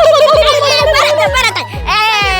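A voice imitates a peacock call, a series of loud, strained, harmonic cries repeated several times in quick succession with a steady low hum beneath.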